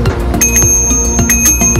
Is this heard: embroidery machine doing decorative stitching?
no